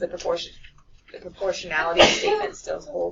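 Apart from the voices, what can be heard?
sneeze in a classroom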